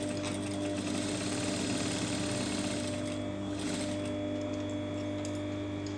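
A domestic sewing machine stitches the side seam of a pair of shorts, its steady motor whir and rapid needle chatter running continuously and close up, with no talking.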